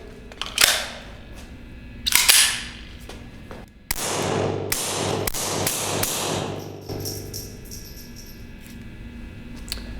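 A suppressed Sig P322 pistol fires standard velocity rounds outdoors. Sharp, close reports come first singly and then in a quicker cluster of shots, followed by a lingering mechanical hum.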